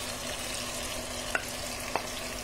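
Sausage fries in a pan, a constant close crackling sizzle with two faint clicks from a utensil against the pan, no talking.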